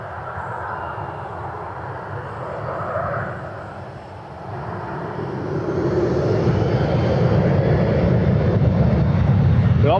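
A United airliner departing Cleveland Hopkins airport: a broad jet engine roar that swells and grows louder as the plane heads out, steady and sustained.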